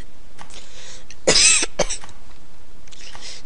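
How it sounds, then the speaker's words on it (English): A single harsh, rasping cough from a person with a bad cough, sounding like a smoker's cough, bursts out loud and close around the middle, followed by a brief second catch, with quiet background before and after. "I've got quite a bad cough at the moment."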